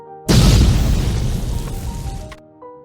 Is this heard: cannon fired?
yes